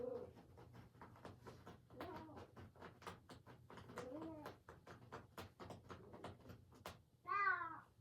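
A single clear cat meow sounds near the end, after several seconds of soft talking and background clatter.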